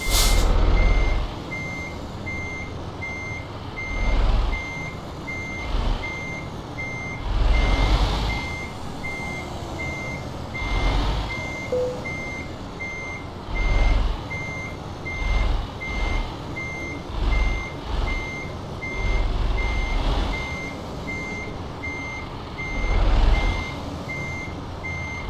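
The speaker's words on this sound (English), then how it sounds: "Let's get this bad boy reversing" Reversing beeps from a truck pulling a trailer in Euro Truck Simulator 2 repeat at a steady rhythm over a low diesel engine rumble, with occasional brief air-brake hisses and engine swells.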